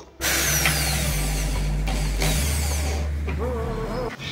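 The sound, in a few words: drilling holes in a jar lid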